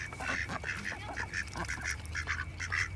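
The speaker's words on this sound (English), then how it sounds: "the geese have been a little bit territorial lately" Geese call repeatedly nearby outdoors on a planting day, a run of short, nasal honks in an uneven rhythm at moderate loudness over a low background rumble.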